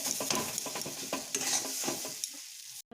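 Ground fried spices stirred into vegetables in a hot pan for vegetable chops, with a spoon scraping and sizzling in short irregular strokes, fairly close, before the sound cuts off near the end.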